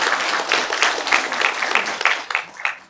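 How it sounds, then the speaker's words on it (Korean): Crowd applause at a Gangwon bodybuilding championship ceremony, a loud, close round of rhythmic clapping from the audience lasting a few seconds. "다시 한번 큰 박수 부탁드립니다"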